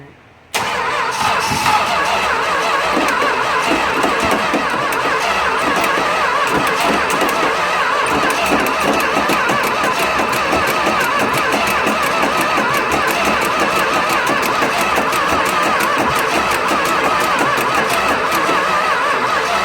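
A 1966 Plymouth Fury engine cranks steadily with the throttle open and no fuel, a loud, continuous rapid churning of the starter turning it over for nearly twenty seconds without catching.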